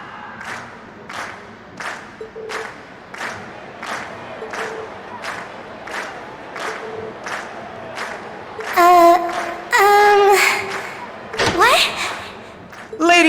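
A concert crowd in the video game Trails of Cold Steel shouts in rhythmic repeated bursts, with louder cheering and game sound effects toward the end.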